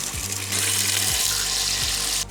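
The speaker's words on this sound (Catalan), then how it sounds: "Aquesta font no és que vagi o no vagi, és que directament està caient aigüeta sola." A public drinking fountain left running on its own pours a steady, close stream of water that splashes continuously and evenly from start to finish.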